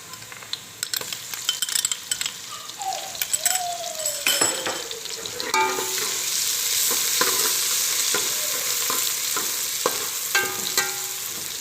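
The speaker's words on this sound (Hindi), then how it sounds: "इसको भी अच्छी तरह भून लें।" Ginger garlic paste fries with lightly browned onions in a pan, giving a steady, close sizzle that grows fuller as it goes, with a spoon scraping and clinking against the metal throughout.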